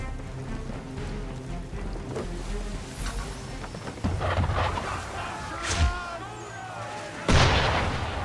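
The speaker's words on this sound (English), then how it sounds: "Why is he shooting at us?" Ship cannon fire at sea in Assassin's Creed 3, a few heavy booms spread over the clip, with rain-like wash, creaking and a voice underneath.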